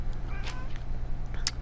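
A cat in the video game Until Dawn lets out a couple of short, close meows over a low background drone.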